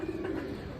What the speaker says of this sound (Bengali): কবুতরগুলো এখানে সেট আপটা দেখছে